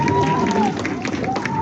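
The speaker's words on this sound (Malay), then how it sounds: "Bagi tepukan untuk dia." Audience applause and crowd noise at an iftar event with orphans in Kuala Lumpur, a steady clatter of clapping running the whole moment beneath a presenter's voice on stage.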